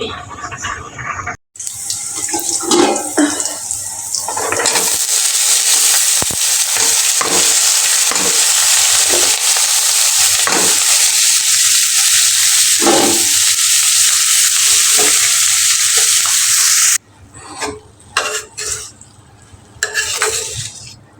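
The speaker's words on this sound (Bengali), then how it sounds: "সিম আর ফুলকপি এগুলো দিয়ে হচ্ছে আজকে ভাজি করব" Flat beans and cauliflower frying in a pan, a loud continuous hiss of sizzling oil that holds for about twelve seconds, with clattery stirring before and after.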